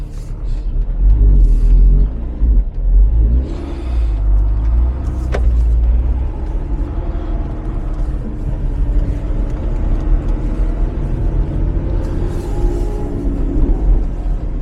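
A 2024 Lotus Emira sports car drives along with a loud, steady engine rumble and road roar throughout, swelling briefly as it accelerates, with no talking.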